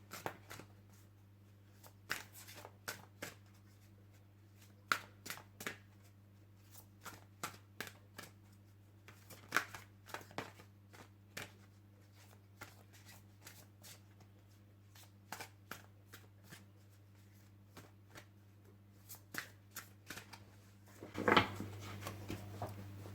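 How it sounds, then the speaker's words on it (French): Playing cards being shuffled and drawn from a deck, heard as a steady series of soft, crisp flicks and riffles spaced across the whole stretch, ending with a brief denser riffle near the end, against a low constant hum. "Je vais tirer 3 cartes et puis vous allez pouvoir choisir quelle carte vous inspire le plus."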